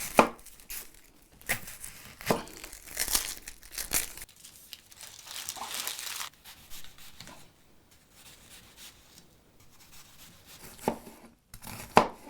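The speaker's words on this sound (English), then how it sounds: "let's go ahead and get started on chopping up that onion" An onion is chopped on a cutting board, with irregular knife thuds and crisp crunching coming close and loud, mixed with rustling as the pieces shift, and no talking.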